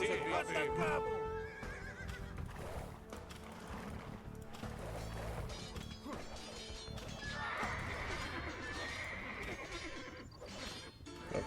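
Horses neigh and whinny with hooves clopping during a medieval Norman warband battle in a strategy video game, steady and busy throughout with a brief bright whinny near the end, mixed with game voices and ambient clatter.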